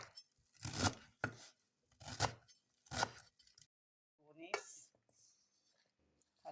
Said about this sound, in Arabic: هلا بدنا نفرم البقدونس